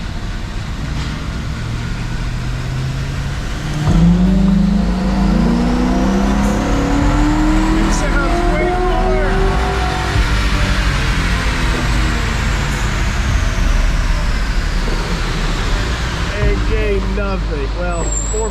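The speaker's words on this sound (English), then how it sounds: "We did our baseline dyno pulls." Ford Crown Victoria engine revving on a dyno, a loud rising then falling drone as the revs sweep up and back down, with a strong continuous low rumble and exhaust roar heard close.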